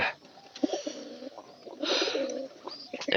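Soft, low cooing of pigeons close by, several throaty murmurs rising and falling with brief pauses between.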